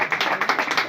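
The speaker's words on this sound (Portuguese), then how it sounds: "Vamos dar uma salva de palmas para Jesus." A church congregation applauds for Jesus in a burst of quick, dense clapping, brief and fairly close, with no voices.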